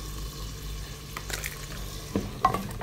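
Ground onion masala with tomato, coriander powder and red chilli powder frying in a pan for egg and potato curry, a low sizzle broken by scraping spoon strokes and a few sharp clinks against the pan.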